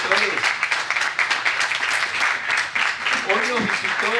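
A crowd applauds in a dense, steady wash of clapping while a voice keeps talking over it, at a talk marking Liceo Brause's 80th anniversary.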